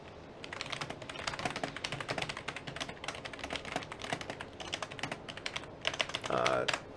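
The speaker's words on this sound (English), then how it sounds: "Type this in here." Rapid, steady typing on a computer keyboard during a live open-mic talk stream: soft, dense key clatter that carries on throughout, fairly quiet and close, with a few louder taps near the end.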